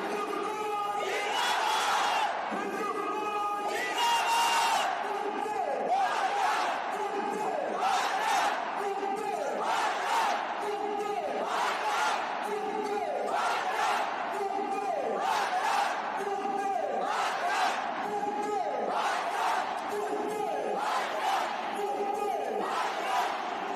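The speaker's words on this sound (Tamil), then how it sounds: "மிலிட்ரி மேன் வந்து சொல்ல சொல்ல நம்ம வந்து திரும்ப ரிப்பீட் பண்ணோம்" A large crowd at the Wagah border flag ceremony near Amritsar chants slogans back after a soldier leads them, loud rhythmic call-and-response bursts repeating steadily over a constant roar of voices.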